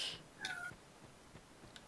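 A large cat in the game Dark Souls 2 lets out a single short meow, close and clear, over a faint steady background hum.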